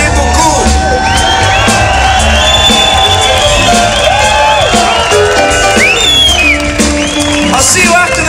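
Audience at the end of a blues concert at the Tremblant Blues Festival, a loud sustained wash of cheering, whoops and shouts from a large crowd.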